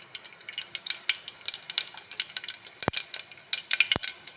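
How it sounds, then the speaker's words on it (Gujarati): Mustard seeds popping in hot oil: a dense, steady crackle of sharp pops and sizzles, close and fairly loud, with a couple of stronger snaps standing out. "હા, અવાજ આવતો હશે તો તળવાનો."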